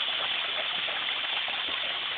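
Water from a garden hose pours into a small backyard pond as a steady, close, bright gushing splash with no pauses.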